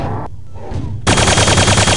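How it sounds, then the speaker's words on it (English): Hyperblaster firing in Quake 2, a loud rapid stream of energy shots that starts abruptly after a brief quieter stretch of game noise and runs steadily to the end. "I'm gonna try this hyper blaster on this."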